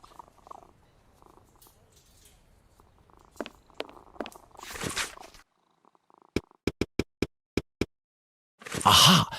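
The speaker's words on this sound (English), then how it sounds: "This cat seems to be in a sorry state." A cat in poor condition purrs in a Sherlock Holmes Jack the Ripper video game, a soft low rumble under quiet background sound, followed by a quick run of sharp clicks and a louder closing burst.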